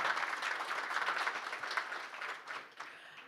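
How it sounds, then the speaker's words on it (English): Audience applause fills the room at a swimming association's AGM and awards evening, a steady dense clapping that holds for a few seconds, then thins and tapers off toward the end. "Please give yourselves a warm round of applause."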